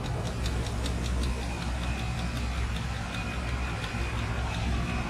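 A marine outboard motor runs steadily at idle with a Seastar hydraulic steering cylinder, resealed at a repair shop, while the boat's steering wheel is turned; a constant low engine drone with light ticking on top, close and continuous.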